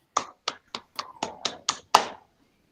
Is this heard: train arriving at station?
no